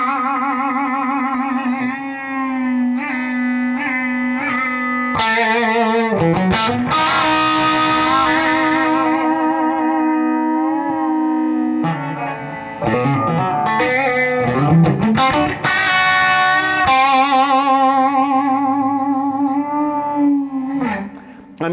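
A Benson Vincent tube amplifier cranked with a high master volume produces saturated, singing distortion: sustained overdriven notes and chords with bends, loud and close, played alone with no talking.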